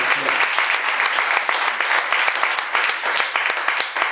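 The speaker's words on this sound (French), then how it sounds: "je pense que vous pouvez donner une bonne main d'applaudissement" An audience at a conference gives a strong round of applause for a performance: loud, dense clapping with sharp individual claps standing out, continuous throughout.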